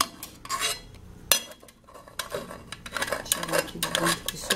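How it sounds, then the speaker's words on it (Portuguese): Utensil scraping garlic out of a pan, a series of short metallic scrapes and clinks close by, irregular bursts separated by brief pauses. "Vou raspar aqui, né? E tirar ele de dentro."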